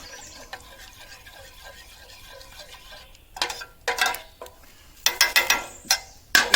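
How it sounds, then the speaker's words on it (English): A spoon stirs grits in a cooking pot: quiet at first, then a run of irregular scraping strokes that grow louder and more frequent in the second half. "Stir that up."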